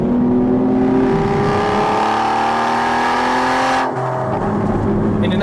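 An Aston Martin sports car pulls hard out of a corner in second gear at full throttle, its engine note climbing loud and steady before a quick shift drops the pitch near the end.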